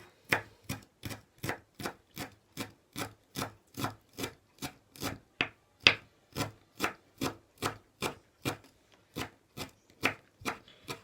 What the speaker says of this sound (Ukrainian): Ми беремо такий пучочок кропу е, і дрібненько крошимо його